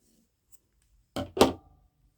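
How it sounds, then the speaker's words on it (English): Scissors snip through crochet yarn in two quick close cuts, a brief pair of crisp shearing sounds in an otherwise quiet room. "And then we're going to cut our yarn"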